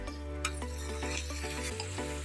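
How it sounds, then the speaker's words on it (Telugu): Bottle gourd pieces cook in oil in a kadai with a soft, steady sizzle. Light stirring noises come and go, and a droning tonal hum runs quietly beneath the whole stretch. "ఆనపకాయ ముక్కల్ని నూనె వేసి మగ్గిచ్చేసుకుందాం"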